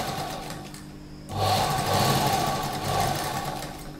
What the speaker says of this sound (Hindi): अब हम इस पर सिलाई लगा देंगे।